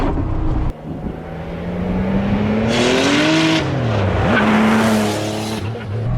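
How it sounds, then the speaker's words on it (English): A turbocharged 1974 Porsche 911 Carrera revs and accelerates hard, pitch climbing and dropping through gear changes, loud and close with a throaty roar. "it's just crazy to have a boosted car like this"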